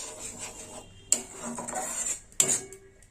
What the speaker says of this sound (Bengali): এইভাবে ভালো করে নেড়ে নিতে হবে।